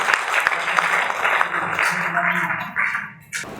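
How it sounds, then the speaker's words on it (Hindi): Loud applause from the audience at a Hindi poetry gathering (kavi sammelan) honouring the poet Neeraj, a dense wash of clapping mixed with voices that fades near the end. "एक बार जोरदार तालियों से"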